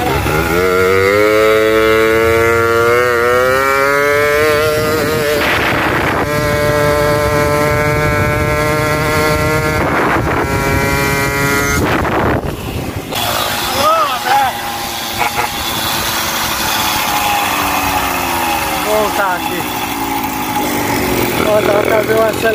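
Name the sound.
tuned moped engine revving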